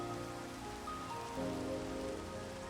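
Rain falls in the video game Minecraft as a soft, continuous patter of drops hitting surfaces. It is steady and even throughout with no talking.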